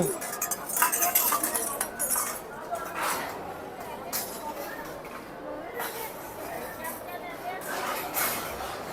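Bowls and spoons are set down with scattered clinks and clatters of utensils at a langar meal during a pilgrimage to Sri Anandpur Sahib, heard through a steady murmur of nearby voices.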